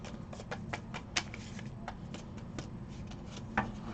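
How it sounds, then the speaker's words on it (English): A deck of new, slippery tarot cards being shuffled, giving soft repeated riffling clicks and ticks at an uneven pace, close and fairly quiet, with no talking. "These cards are pretty new, so they're a little hard to shuffle right now."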